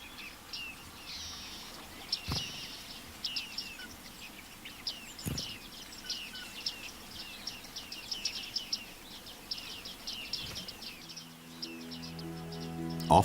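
Bearded reedlings call from a reed bed in wild Germany, a run of thin, high pinging notes repeated in quick irregular bursts, fairly faint and distant over soft ambient hush, with a few louder clicks and a low rumble near the end.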